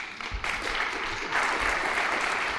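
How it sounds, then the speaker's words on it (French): Applause from the audience at a round-table conference opening, steady and fairly close, sustained clapping from many hands with a slight swell partway through. "je voudrais bien qu'on l'applaudisse déjà"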